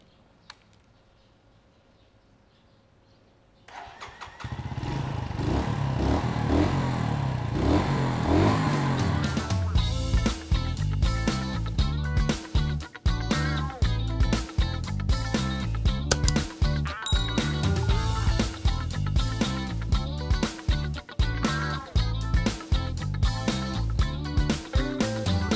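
A Mutt Akita 250 motorcycle engine cranks and catches after a quiet start, then settles into a loud, steady, close-up idle with a fast even thump and slight irregular pops throughout.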